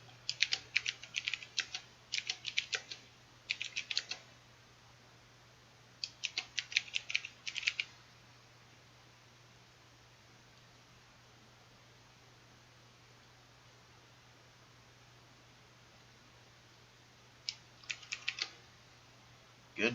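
Bursts of clicky mechanical keyboard typing come in short runs separated by quiet pauses, close and crisp.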